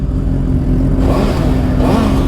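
A superbike with a stock exhaust revs up close, a loud steady engine drone that climbs in pitch partway through and stays alone with no talk.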